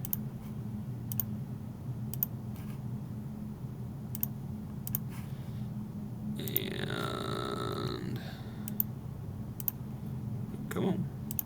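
A computer mouse clicks in 3D CAD software as holes are placed on a flange: sharp, faint, evenly spaced clicks over a low steady hum, with a brief tonal electronic sound in the middle.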